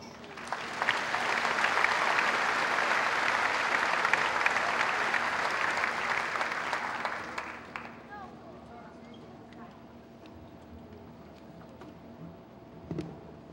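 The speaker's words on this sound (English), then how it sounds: "please join me in honoring her with a round of applause" Graduation audience applauding a valedictorian receiving her medallion, a loud sustained roar of many hands that holds steady for about seven seconds, then fades out abruptly into quiet room tone with faint sounds.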